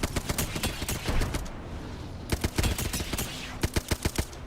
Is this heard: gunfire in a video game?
yes